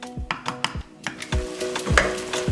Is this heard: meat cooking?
yes